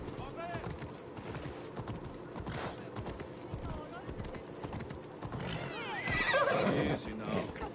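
A horse in the video game Assassin's Creed Odyssey whinnies loudly several times among clip-clopping hooves and game ambience, with someone speaking intermittently over it.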